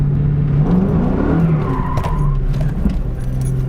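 A 2003 Ford Mustang GT with a V8 engine droning steadily while the car slides sideways, tires scrubbing and faint squeal rising midway, heard from inside at close range with no talk.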